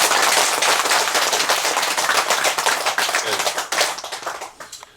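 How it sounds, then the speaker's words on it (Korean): Louder, sharper clapping from a congregation at a Buddha's Birthday Zen center service greeting newcomers, crisp rapid hand claps that thin out and fade toward the end. "새로 오신 분들을 위해서 조금 더 크게 박수."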